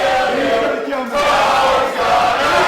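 A wrestling crowd chants together in a loud, steady roar of massed voices at a live professional wrestling show, with a brief dip in the middle before the chant swells again.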